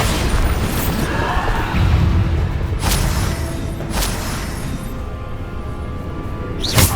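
Bombarda spell explosions in Hogwarts Legacy, a loud booming rumble throughout with several sharp bursts and crashes, a final whoosh at the end.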